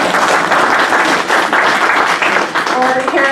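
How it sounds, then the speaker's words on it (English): A crowd at a genealogy talk breaks into steady, dense applause for a few seconds, close and loud, with a voice starting to speak as it fades. "May I have some applause now?"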